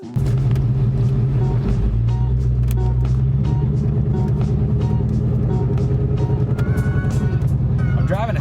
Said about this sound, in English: X-pipe paired with a SR Performance Catback. It does not sound too crazy.